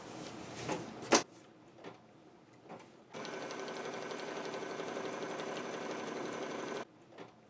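A sewing machine stitches a quilt block seam in one steady, even whir lasting several seconds, preceded by a few soft clicks and handling noises of fabric being positioned.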